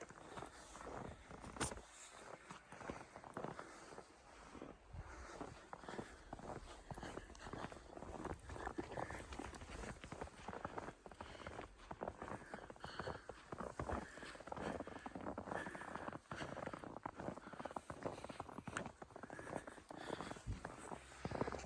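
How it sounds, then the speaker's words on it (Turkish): Continuous crunching footsteps on snow, near and fairly even in pace, with steady background noise and no talking. "Ayak sesini duyuyorsunuz değil mi arkadaşlar?"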